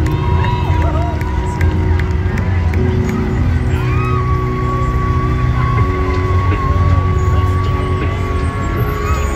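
A parade crowd applauds and cheers in a dense, continuous wash of clapping and crowd noise, with scattered shouts and background voices and a faint whistle-like tone rising through the middle.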